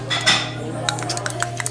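A spoon clinks against a bowl of Vietnamese pho noodle soup as chili is mixed in, with a few close, quick metallic taps and scrapes that come alone and without talk.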